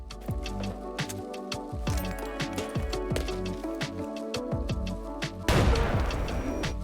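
Gunfire rattles in rapid bursts in the shooter game Arena Breakout Infinite, then a loud grenade blast erupts near the end, its noisy burst ringing out over the continuing shots.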